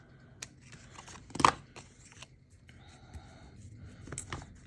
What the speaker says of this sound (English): I'm going to take a pair of scissors and trim off